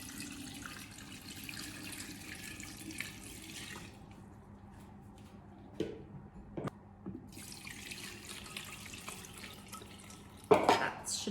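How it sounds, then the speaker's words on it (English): A 5-liter jug being filled with water from a tap, a steady running, splashing flow up close with a brief pause and a few louder knocks and splashes near the end. "Now I'm gonna fill it up so it's full of water."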